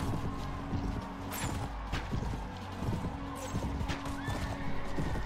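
Horses in the battle game Mount & Blade: Warband with the Floris Expanded mod whinny and neigh over clattering hoofbeats and thuds of combat, all fairly close and busy.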